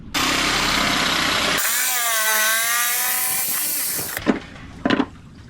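A jigsaw cutting a mounting piece aboard a boat: a loud, harsh buzzing cut that shifts pitch midway and stops abruptly after about four seconds, followed by a couple of short knocks.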